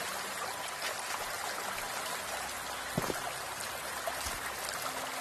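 Water flows steadily in a stream within the VR game Medieval Dynasty, a continuous broadband trickling rush at moderate level with a couple of faint knocks partway through.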